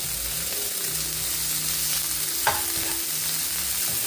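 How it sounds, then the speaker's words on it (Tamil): Onion, ginger, garlic and curry leaves sauté in a pan with a steady close sizzle, broken by one sharp clink of a utensil partway through; no one speaks. "இப்போ இதை நல்லா ஒரு அஞ்சு நிமிஷம் வதக்கி எடுப்பேன்"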